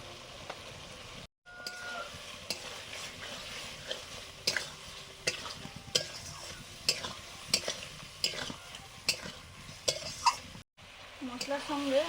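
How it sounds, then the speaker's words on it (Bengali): Boiled potatoes are stirred and fried with chilli powder and spices for Bengali aloo dum, with repeated scraping strokes of a spoon against the pan over a soft, low sizzle and two brief dropouts. "মশলার সঙ্গে আলুটা কষে নিয়েছি ভালো করে"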